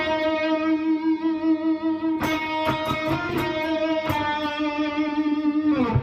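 Distorted electric guitar carries the lower harmony line of a song, with sustained notes, bends and a few quick picked passages, played alone without talk.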